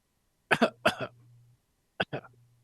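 Two pairs of sharp, close coughs separated by a short pause, with a low steady hum in the background.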